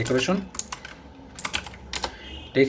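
CSS code is typed on a computer keyboard in quick, irregular clusters of clicking keystrokes, close by, with a voice speaking briefly at the start and end.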